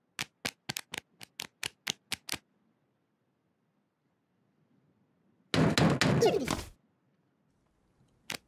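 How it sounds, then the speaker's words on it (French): A rapid series of about nine sharp knocks on a door in a children's animated show, followed by silence and then a louder burst of clattering, thumping noise. "Quelqu'un frappe à la porte."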